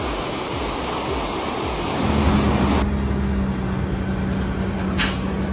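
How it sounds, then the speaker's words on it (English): A red truck loaded with massive logs rolls down a steep slope, its engine droning low and steady beneath broad road and wind noise, with a sharp hiss of air brakes near the end. "Loaded with massive logs, this red truck descends steep slopes and navigates tight corners with astonishing control."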